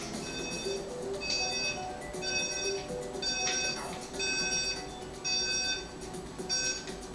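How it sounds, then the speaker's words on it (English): An electronic alarm beeps in a repeating pattern of short bright tone bursts at regular intervals, moderately loud indoors, with a faint voice underneath. "let's go turn off this stupid alarm"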